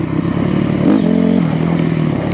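A dirt bike with a sticking throttle revs unevenly at close range, a loud engine drone swelling and holding with clattery mechanical noise.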